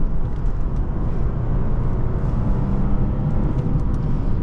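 A 2006 Lexus IS250 engine drones steadily from inside the cabin while downshifting, a loud continuous low rumble with little change in pitch and no voices.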